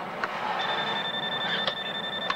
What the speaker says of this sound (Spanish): El maldito teléfono.